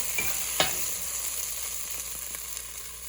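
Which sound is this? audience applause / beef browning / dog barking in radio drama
beef browning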